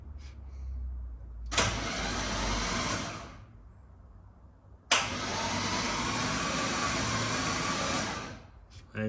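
A Corvette engine with no spark plugs installed cranks over in two long bursts of steady whirring starter noise, each lasting a few seconds with a quiet gap between, heard close up with no talking.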